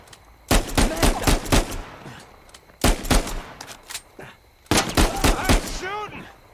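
Gunfire in Uncharted 4 comes in three loud, close bursts of rapid automatic shots separated by short pauses, with a faint voice near the end.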